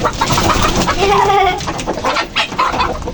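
A rooster clucks loudly and close by on a rooftop poultry farm, with a run of throaty calls over a brief stretch.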